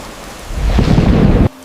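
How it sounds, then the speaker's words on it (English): A thunderstorm with heavy rain surges into a loud, low rumble over a dense rain hiss, then cuts off abruptly near the end. "the rain won't stop"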